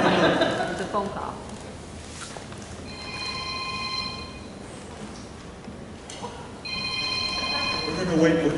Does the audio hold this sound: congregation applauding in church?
no